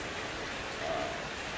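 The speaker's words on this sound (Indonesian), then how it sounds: "Ini hujan." Rain falls as a faint, even hiss with no distinct drops standing out, steady across the whole moment.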